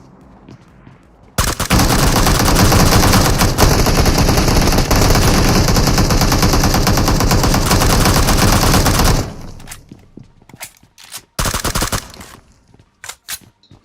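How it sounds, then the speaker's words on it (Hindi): Sustained automatic gunfire rages in a PUBG Mobile squad battle, a loud dense stream of rapid shots lasting several seconds, then sporadic bursts and scattered single shots trailing off, with no talking. "सिर्फ गोलियों की आवाज आई है चारों तरफ"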